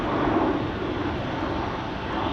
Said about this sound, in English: There's the Orange Pride taking off from center.